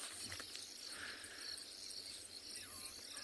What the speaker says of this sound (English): you can still hear a lot of the frogs in the area